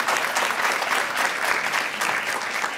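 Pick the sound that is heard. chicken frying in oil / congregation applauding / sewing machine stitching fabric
congregation applauding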